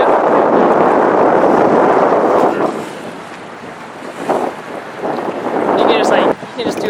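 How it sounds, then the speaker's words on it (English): Strong wind roars and buffets directly against the microphone outdoors, a loud, continuous rumble that dips briefly midway before surging again. "because the wind is so high"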